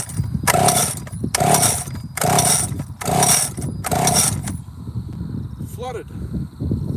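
A flooded Stihl 041 chainsaw is pull-started about five times in a steady rhythm, each rasping burst loud and close, without catching into a sustained run. A voice is heard nearby.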